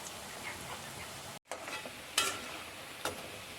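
Murukku lifted from hot frying oil, with a steady soft sizzle and a few brief scraping, stirring clinks of a ladle, close and moderately quiet, no voices.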